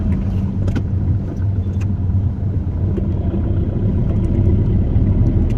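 A car engine hums and rumbles in a steady low drone during a driving lesson in city traffic, with road and tyre noise underneath, a few faint clicks and ticks from the cabin, and no talk.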